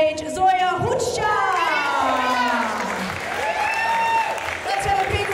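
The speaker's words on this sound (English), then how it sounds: "Let's have a big round of applause for our very freaky ladies" Circus show audience at a freak-show performance applauds and cheers, dense clapping under loud chatter and excited voices, with high whoops and children's shouts rising and falling over the crowd.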